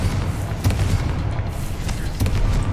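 A Confringo spell explosion in the Hogwarts Legacy video game, a loud, deep, rumbling boom that sustains throughout with a few sharper cracks inside it.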